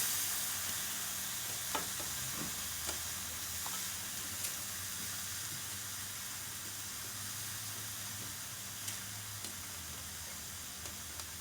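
Onion sizzles and fries in a pan for ginataang tilapia, a loud steady hiss of frying with occasional small pops and stirring clicks, close and continuous with no talk.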